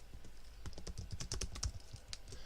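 Someone types rapidly on a computer keyboard, a quiet, irregular stream of clicks that goes on without pause.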